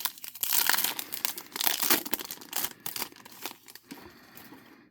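A 2026 Topps Chrome blaster-box trading card pack is torn open, with close, busy crinkling and tearing of the foil wrapper in rapid bursts that ease off toward the end; no voices.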